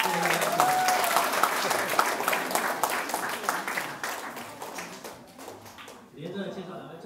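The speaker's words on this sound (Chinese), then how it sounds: "再谢谢莫云，好不好？ 掌声。" An audience at a church karaoke contest applauds with dense, sustained clapping that fades gradually, then a voice briefly speaks over the tail.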